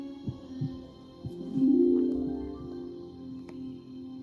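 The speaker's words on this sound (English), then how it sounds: "they heard the rhythm of a muffled heartbeat" Soft, muffled thumps in a slow irregular rhythm, like a heartbeat heard through something, joined midway by a low sustained hum.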